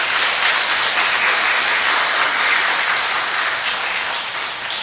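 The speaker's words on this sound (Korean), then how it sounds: "이렇게 박수 잘 치는데 처음 봤습니다." Audience at a night retreat talk by a priest, a loud, dense burst of enthusiastic clapping from many people that holds steady before tapering slightly at the end.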